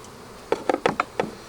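Honeybees buzz around a hive box during a beekeeping split, heard as a faint cluster of five short buzzing bursts over about a second, close by and without speech.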